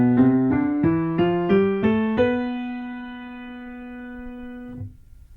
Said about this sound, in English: The Locrian mode sounds like this.